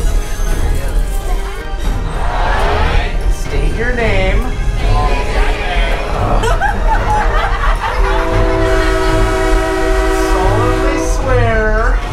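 A wizard-themed train ride rumbles along with steady rail noise while a horn sounds in long sustained blasts toward the end, excited voices talking and shouting over it throughout.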